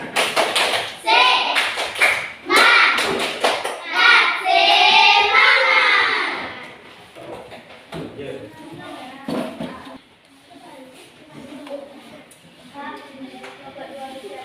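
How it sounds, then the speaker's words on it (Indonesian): A fourth-grade elementary school class does the 'tepuk semangat' routine, clapping a rhythmic pattern while children chant along. Loud voiced chanting leads into quieter scattered claps and murmured talk. "sama-sama tepuk semangat"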